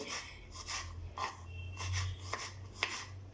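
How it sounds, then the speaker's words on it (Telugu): Garlic cloves cut into small pieces with a knife for ulava charu, a Telugu horse gram soup; a series of soft, quick chopping taps, close and quiet, over a low hum. "ఇందులోకి కొన్ని వెల్లుల్లి రెబ్బలు తీసుకుని ఇలా చిన్నగా కట్ చేసుకుని పెట్టుకోవాలి"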